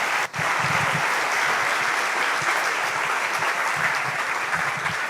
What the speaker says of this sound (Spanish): Venga fuerte el aplauso para José Carlos.